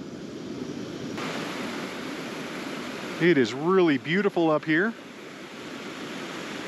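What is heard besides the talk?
Fox Creek Falls waterfall rushing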